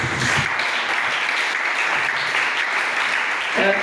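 Church congregation applauding after a call to acclaim the Lord during a French-language sermon, steady dense clapping filling the room throughout, loud and continuous.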